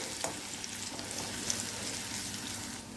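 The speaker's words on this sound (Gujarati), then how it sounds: "તેલમાં લસણની સુગંધ બેસી જાય છે ત્યાં સુધી આપણે આને સાતળી લેવાનું છે" About two spoonfuls of chopped garlic sauté in hot oil for a garlic-flavored puffed rice chevdo, a steady close sizzle with a few faint clicks of stirring, no talking.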